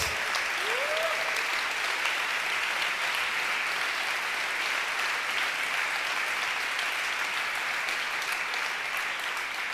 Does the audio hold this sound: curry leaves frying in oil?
no